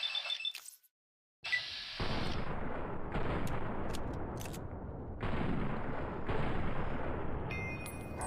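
Gunfire in Fallout: New Vegas, loud close bursts of shots after a brief silence, with repeated sharp cracks and sustained blasts running through the rest of the stretch.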